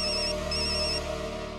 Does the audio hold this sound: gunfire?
no